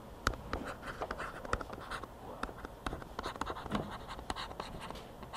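A pencil scratches across paper in short, uneven strokes, close and quiet, with faint room noise behind.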